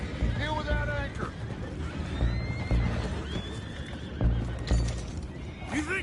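Horses whinny loudly several times amid clopping hooves and background commotion, with the calls rising and falling in pitch.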